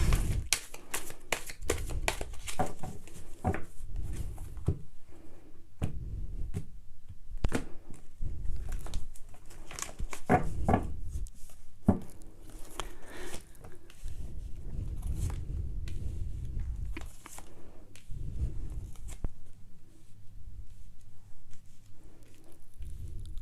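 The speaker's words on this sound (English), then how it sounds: "One more shuffle for Gemini." Tarot cards are shuffled repeatedly up close, crisp riffling bursts and soft slaps with brief pauses between, in a quiet room.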